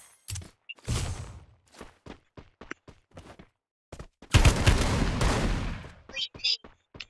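Gunfire from the Free Fire mobile battle game: a series of sharp shots and short bursts spread across the clip, with one dense, loud volley near the end. People talk over it.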